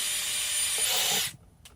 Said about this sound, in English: So I'm drilling a couple holes to add some wire to make the arms.